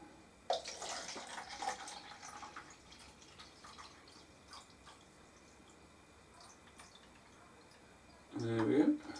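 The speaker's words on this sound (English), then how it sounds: "So I'll just put in 270 ml of water." Water is poured into a measuring cup, 270 ml for a Panasonic SD2501 breadmaker loaf. It comes through as a faint, close trickle with soft drips, ending in a louder splashing pour, with quiet talk alongside.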